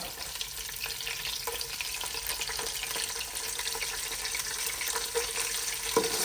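Green and dried red chillies and spices frying in oil for pulihora keep up a steady close sizzle and crackle, with scattered light stirring clicks and a sharper knock near the end, no speech.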